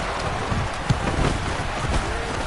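Rain falling at an outdoor football stadium during a game gives a steady broad hiss of drops. Low rumbling crowd or wind noise sits underneath, brief and constant.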